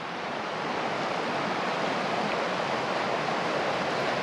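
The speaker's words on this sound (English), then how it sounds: "So wow, this little brook goes underneath the bridge, comes out on the side." A small brook running under a bridge on a walking trail, heard as a steady, even rush of flowing water with no pauses and no voices.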